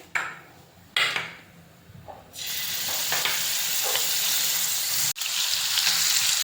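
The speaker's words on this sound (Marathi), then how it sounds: "आता आपण त्यामध्ये पनीरचे तुकडे फ्राय करून घेणार आहोत." Paneer pieces frying in hot oil in a kadai for dhaba-style matar paneer, first quiet with a few splashy bursts, then a loud steady sizzle that fills the rest, briefly cut off once near the end.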